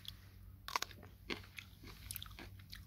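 A mini kiwi (actinidia) berry is bitten into close up, giving a few short, crisp crunching bites with quiet chewing in between.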